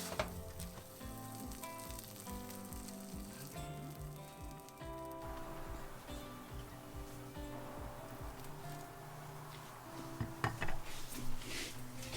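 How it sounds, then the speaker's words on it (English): A grilled cheese sandwich fries in a non-stick pan during Sunday brunch, giving a soft, steady sizzle that sits beneath gentle background music and grows a little louder near the end. "to make grilled cheese like this, you need a really good non-stick pan"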